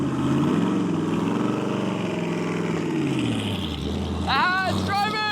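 LS V8-swapped Lamborghini engine running loud and close while it drives off, its rumble rising and dipping, with someone talking over it near the end.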